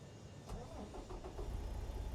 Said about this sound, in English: So let's start up the truck